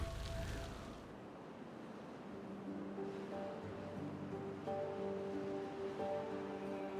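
Water flowing in the Timberborn video game, a soft steady rush under light game music tones.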